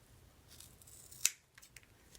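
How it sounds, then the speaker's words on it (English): Sharp Kai fabric scissors give a single crisp snip through fabric during a sewing project, a brief bright click over quiet room background. "You want to remember when you're cutting to always move your project, not your scissors."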